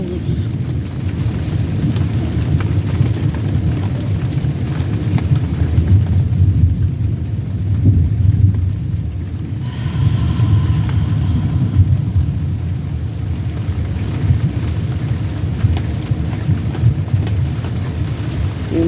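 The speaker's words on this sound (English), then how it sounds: "And the thunder rolls." Thunder rolling through a rainstorm heard beside an open window, a deep continuous rumble under steady rain, loud and close, swelling and easing over the span.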